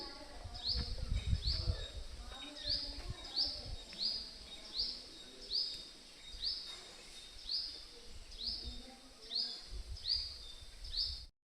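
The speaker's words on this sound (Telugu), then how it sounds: "పిచ్చుకల సౌండ్లు వింటంటేనే అసలు ఎంత ఆనందంగా ఉందంటే అంత ఆనందంగా ఉంది" Sparrows chirp in a steady repeating pattern, roughly one sharp chirp every second, over a low background rumble and faint distant noise.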